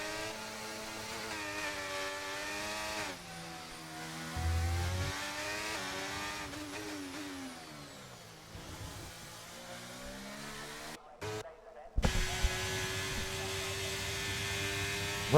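Race cars in the GSRL sim racing game on an Australian circuit, engines droning and revving steadily with rising and falling pitch as they run through corners, brief gear-shift dips and a short cut near the end.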